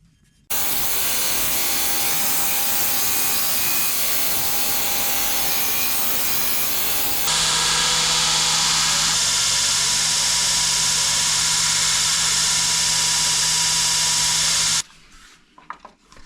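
Belt grinder grinding bevels on a handmade knife blade, a loud, steady abrasive whine and hiss that shifts in pitch partway through, then stops abruptly.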